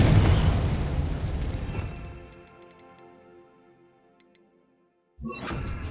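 A Confringo explosion spell going off in Hogwarts Legacy: a loud, close blast that decays over about two seconds into a ringing, magical tail with faint chimes, then near silence before another sound abruptly begins.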